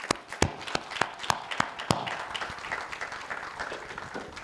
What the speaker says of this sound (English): Please join me in a round of applause for Mr.